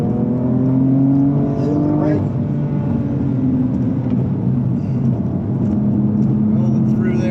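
A 2019 BMW M2 accelerates through gears on a race track lap, its engine note rising and falling with shifts, heard steadily beneath someone talking throughout.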